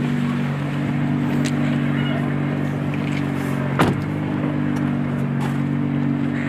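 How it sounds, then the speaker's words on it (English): A 2017 Nissan GT-R heard from inside the cabin during a test drive gives a steady, constant engine and road drone with a low hum and one brief clunk partway through. "Mike driving a GTR."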